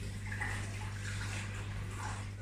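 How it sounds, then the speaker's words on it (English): Boiling water pours steadily over beef ribs in a cooking pot, with onion and stock cube already added, a continuous close hiss and splash of liquid. "And I've got some boiling water."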